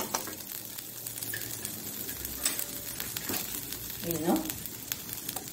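Chilies and spices including coriander, cumin, fenugreek, mustard seeds and ajwain sizzle in hot oil for a Mangalorean raw mango and dried mackerel saaru, a soft steady crackle with faint pops and stirring, someone speaking over it.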